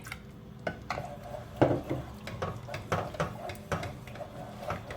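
Metal utensil scraping and clinking against a pan while milk is gradually stirred into a sauce over low heat, giving irregular light taps and knocks at close range with faint background noise.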